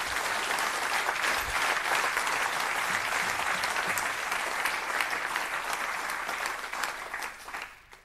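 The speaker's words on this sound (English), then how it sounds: "May I have a small, big applause for Nick." An audience at a talk show in Deventer claps in sustained, dense applause that stays steady and then tapers off toward the end.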